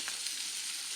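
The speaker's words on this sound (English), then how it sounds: "once it starts rendering out, as you can see, that bacon fat starts rendering out" Bacon fat renders in a pan with a brief, fairly quiet, continuous hissing sizzle.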